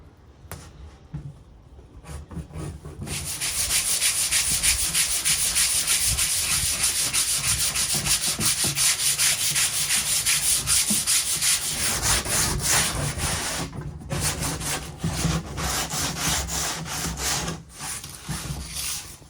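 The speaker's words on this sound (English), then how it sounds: "so I found an old wallpaper scraper" An old wallpaper scraper scraping steadily along a surface inside a VW Transporter 6.1 van during carpeting, loud continuous rasping strokes lasting most of the clip, with no talking.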